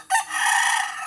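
A rooster crows close by, one loud drawn-out call with a short break near the start.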